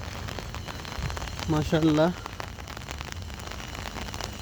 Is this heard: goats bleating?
no